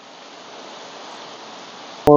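Heavy monsoon rain in Pune makes a steady, dense hiss throughout, with a brief burst of a voice at the very end.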